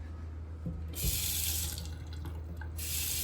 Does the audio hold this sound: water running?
yes